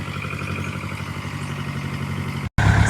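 Tow truck engine idling with a steady low throbbing hum while hauling out a six-wheel truck, close and continuous, cutting out abruptly for a moment near the end before resuming.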